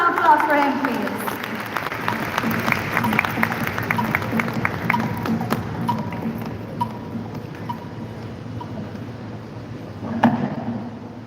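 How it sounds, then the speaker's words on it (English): An audience at a formal event applauds the chief guest, the chairman of SEBI, with a burst of many hands clapping that gradually thins out, with voices present underneath. "Can we have a huge round of applause for him, please?"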